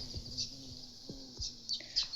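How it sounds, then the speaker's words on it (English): Wild birds in a maize field give faint, high chirps scattered over a quiet background, a few short calls with soft low knocks in between. "So you can see the birds are quite many."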